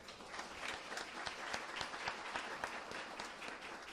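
A crowd applauding, a steady patter of many hands clapping at moderate volume, with no voices over it.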